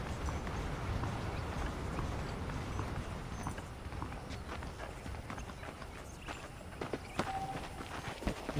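Saddled horses walk in Red Dead Redemption, their hooves clip-clopping in a steady rhythm over a constant low background, fairly near and moderate in loudness.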